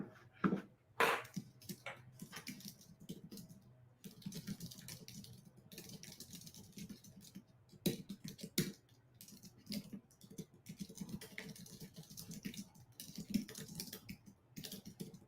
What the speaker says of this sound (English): All the typing.